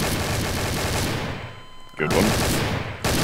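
Rapid automatic gunfire in the video game Garry's Mod, sustained loud bursts broken by short pauses, with a brief spoken remark during the shooting.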